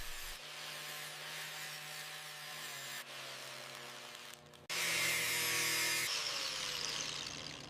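A laser cleaner strips rust scale from the tight corners of a steel frame, giving a continuous bright hiss that cuts out briefly and then resumes louder, close and alone.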